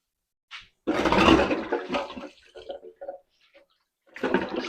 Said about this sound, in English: Right now, I'm going to go over here, wash my hands.